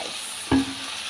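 Noodles being stir-fried in a hot pan at home, a single short burst of sizzle and stirring rising out of a quiet background.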